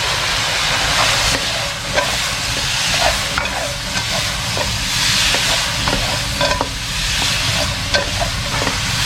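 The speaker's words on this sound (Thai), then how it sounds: "ประมาณนี้ท่านผู้ชมแล้วก็ซ้ำด้วยพริกไทยนะครับ แล้วก็ผัดซ้ำเลยครับ" Food stir-fried in a hot pan with pepper, a steady loud sizzle broken by repeated scraping and clinking of the spatula against the pan throughout, with no talking.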